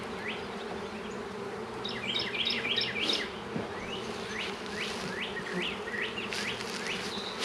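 Honeybees at a four-way mating nuc (queen castle) make a steady, close buzz throughout, with brief higher whines of individual bees flying past the microphone.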